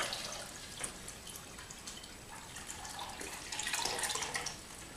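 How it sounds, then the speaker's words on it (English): Water from an ozone washer drains by gravity through its outlet pipe into a basin, a faint, continuous trickling splash with small drips. "you grab the outlet pipe, yes, using gravity, empty it into your container or into your basin"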